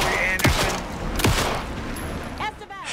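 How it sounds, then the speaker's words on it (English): Sawed-off shotgun and pistol fire in Alan Wake 2: two heavy, loud blasts about a second apart over a constant din of game noise, then a short metallic mechanical clatter. "One burst from the sawed-off shotgun is enough to stop him."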